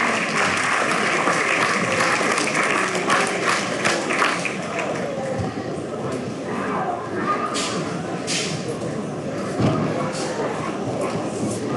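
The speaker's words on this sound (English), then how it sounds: "Give them a nice round of applause." An audience at a swine show applauds in a steady, dense wash of clapping that holds for the full stretch, gradually thinning slightly toward the end.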